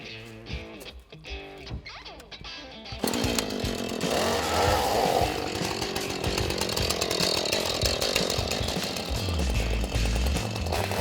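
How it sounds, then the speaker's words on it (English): A chainsaw roars to full throttle after a few quieter seconds, buzzing loudly and steadily as it bites into logs for firewood. "Let's get those chainsaws out, eh?"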